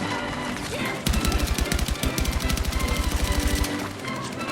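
Rapid automatic gunfire in the video game Battlefield 6, a sustained burst of fast, evenly spaced shots lasting about two and a half seconds, loud and close over a noisy battlefield background.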